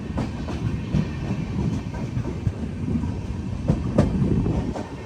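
A Konkan Railway LHB passenger train rolls along on its way from Madgaon to Sawantwadi Road, giving a continuous low rumble with faint rhythmic wheel clatter, heard from close by.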